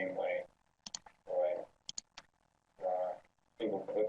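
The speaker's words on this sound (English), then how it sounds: "single-clicking, double-click to finish." Computer mouse clicks on a web mapping tool while measuring: single clicks and a quick double click sound sharply between phrases of a narrator talking over them.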